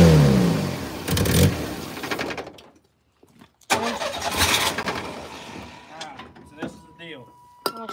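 A car engine cranks and catches with help from starting fluid, revving briefly before a pause, then cranking and running again up close, with voices talking over it.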